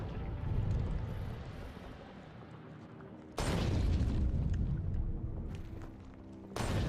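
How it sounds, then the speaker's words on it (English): Artillery in Factorio booming in heavy, low blasts, two loud distant-sounding thuds several seconds apart over a rumbling background, with no talk. "I love artillery. It's so good."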